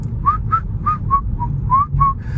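A person whistling a short made-up tune, seven or eight clear pitched notes in a bouncy rhythm, close and fairly loud over a low background rumble, no talking.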